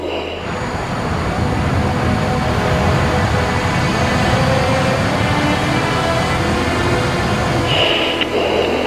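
Jet aircraft accelerating on takeoff roll as the nose wheel lifts, a loud steady roaring rumble heard from inside, filling the whole stretch without pause.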